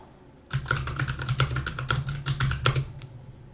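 Code being typed on a computer keyboard during compiler construction work, a dense run of close, rapid key clicks lasting about two and a half seconds, then stopping.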